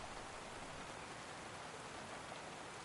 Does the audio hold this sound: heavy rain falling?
yes